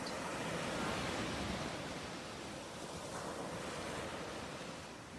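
Ocean surf rolls in steadily, a broad continuous roar of breaking waves with wind noise over the microphone, swelling slightly near the start and easing toward the end.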